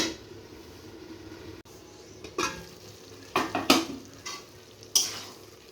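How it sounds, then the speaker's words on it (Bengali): Drumstick and potato pieces sautéed with spices in a pan, a low continuous sizzle broken by several scraping and clinking strokes of a spatula against the metal, close and fairly loud toward the end. "এভাবে কিন্তু আস্তে আস্তে কষিয়ে নিতে হবে"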